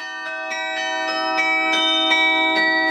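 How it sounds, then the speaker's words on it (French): Bright cathedral carillon bells ring out in a steady, continuous sequence, loud and close, each strike overlapping the lingering resonance of the last. "Avec les 3 carillons que je joue de manière continue"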